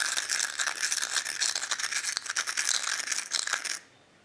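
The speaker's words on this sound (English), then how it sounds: "So I'm just gonna mix the orange piece of chalk around in the salt." An orange stick of chalk rubbed around in a dish of salt gives a steady close gritty scraping and rattling for almost four seconds, then stops.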